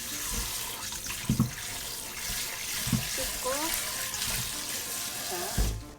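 Warm tap water runs steadily into a kitchen sink for rinsing baby toys, a continuous close splashing wash with a few clinks and handling knocks, and a voice murmuring briefly over it.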